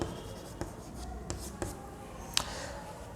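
Chalk or marker writing on a classroom board during a seventh-grade math lesson, heard as a few faint, sparse taps and strokes spread across a quiet room with no talking.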